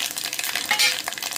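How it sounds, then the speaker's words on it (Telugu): Mustard seeds, cumin and garlic sputter and crackle in hot oil as a tempering for tomato rasam, a dense, steady sizzle with small pops and a brief metallic clink, close and with no talk. "చారుకి పోపు వేస్తున్నామండి."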